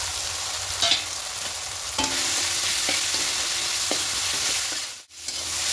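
Ginger, garlic and green chilli paste fries with coriander, cumin and turmeric powders for an egg curry with cauliflower and potato, giving a constant close sizzle broken by several scraping stir strokes.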